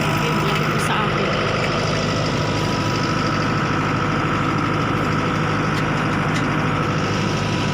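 A tractor engine runs steadily while pulling a truck out of a snow drift in Canada, producing a constant loud low rumble and mechanical drone with no break across the whole stretch.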